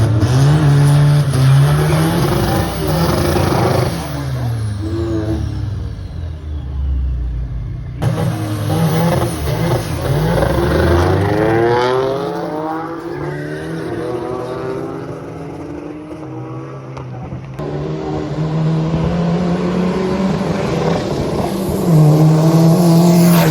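Drag racing cars roar off the line and accelerate hard down the strip, including a Toyota Yaris, an Audi S3 and a diesel-powered Mach 1, with loud continuous engine howl rising through the gears for the full run.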